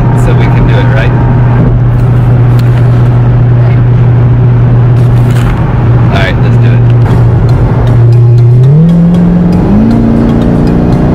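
A Corvette's engine drones steadily as the car drives, a loud constant hum that climbs through two upshifts near the end, with faint voices in the background.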